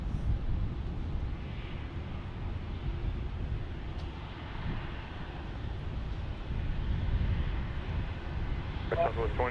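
A Southwest Boeing 737-700 airliner at Dallas Love Field during thunderstorms, a steady low jet engine rumble with wind and rain noise, fairly loud and continuous, with a short voice burst near the end.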